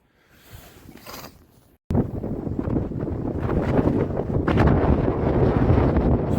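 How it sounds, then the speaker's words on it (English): Strong gusting wind buffets the microphone outdoors on a metal-detecting outing, starting as a softer rumble then jumping to loud, continuous low roaring blasts that swell and fade, with no speech. "It's fucking windy."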